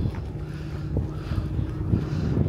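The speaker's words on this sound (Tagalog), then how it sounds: "Ang lakas talaga ng hangin dito." Strong wind roars and buffets the microphone in continuous rough gusts in Tamsui, Taiwan, with no other sound standing out.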